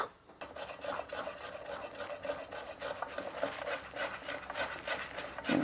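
Hand plane shaving the end grain of a wooden knife block, a steady close rasping scrape repeated in quick rhythmic strokes, with no voices.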